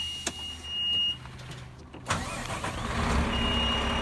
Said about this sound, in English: Okay, start the truck.